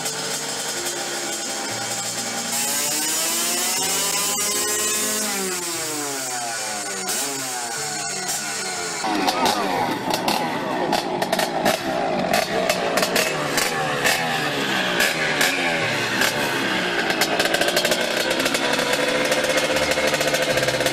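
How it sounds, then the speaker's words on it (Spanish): A modified Vespa PX 150 scooter fitted with a tuned Quattrini M1 XL 177 cc kit runs loud and close, its two-stroke engine revving up and down in rising and falling sweeps, then settling into a harsh, buzzing high idle. "El motor es un motor original, es un 150 de un PX."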